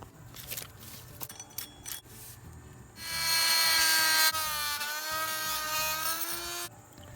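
Cutting 3/4 stock with a longer blade: after a few scattered knocks and handling clicks, a power saw buzzes loudly into the cut for roughly four seconds, its pitch sagging slightly, then stops abruptly.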